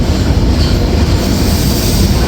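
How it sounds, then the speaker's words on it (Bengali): Drutojan Express train on the Dhaka to Natore route pulling into Jamuna Bridge East Junction station, its carriages rolling past with a loud, steady rumble and a continuous wheel roar close by. "বিলম্বে ট্রেনটি এখন প্রবেশ করছে যমুনা সেতু পূর্ব জংশন রেলওয়ে স্টেশনে"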